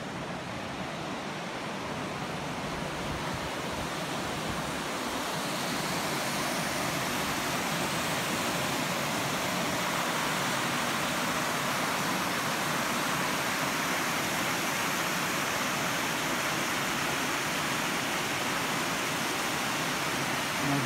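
Water rushes continuously through the Meshushim stream in February, a dense, steady, close roar of flowing water that holds evenly throughout with no voices.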